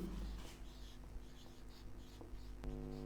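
Pen scratching steadily across paper while working out a physics numerical, continuous close writing strokes over a low background hum, with a small tap near the end.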